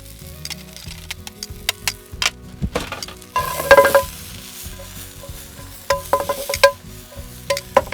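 Beef and ginger stir-fry in a pan over a camp stove, sizzling in bursts while a utensil scrapes and clinks against the metal, with a louder flare of frying midway.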